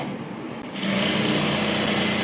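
A sewing machine stitches the side seam of a princess-cut blouse, a steady close whirring hum that starts quietly and swells to full speed, running without talk.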